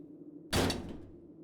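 A bedroom door slammed shut hard in a house, one loud single bang with a short ringing tail over quiet room hum.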